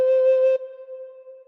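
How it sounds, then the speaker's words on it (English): One recorder note fingered with the thumb hole and hole 2 covered, a pure, steady whistle-like tone that is fuller at first, then drops to a softer sustain on its own. "put finger number 2 on hole number 2 and blow once."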